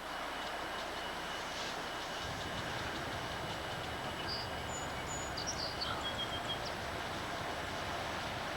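A Norfolk Southern freight train runs southbound on the Buffalo Line at Northumberland, heard as a steady broad rumble of rolling cars at moderate distance, with faint birdsong above it.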